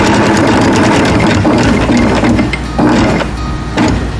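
A sewing machine runs loud and close, stitching quilt binding toward a mitered corner with a continuous mechanical drone and small shifts in motor speed over a few seconds.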